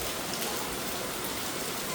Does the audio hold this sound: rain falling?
yes